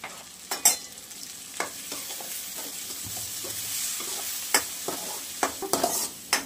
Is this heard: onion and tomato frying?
yes